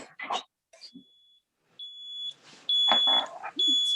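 A waffle iron beeps that it is ready, with sustained high electronic tones that start and stop in a few bursts. Quiet kitchen sounds and some talking come between the beeps.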